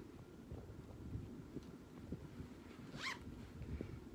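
A brief zipper pull on the pocket of a soft, lightweight leather designer handbag, one quick rising rasp about midway through, heard against a low background rumble.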